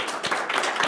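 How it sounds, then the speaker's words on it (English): Brief burst of audience applause at a Democracy at Work event, a quick wash of many hands clapping close by without speech. "Let's give him a round of applause,"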